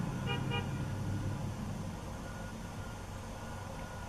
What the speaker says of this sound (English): the universe agreed and honked twice.